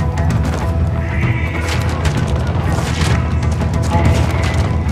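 Dense, continuous gunfire in the Ghost Recon Wildlands video game, a loud, busy battle mix with overlapping shots and crashing impacts throughout, no clear gaps between bursts.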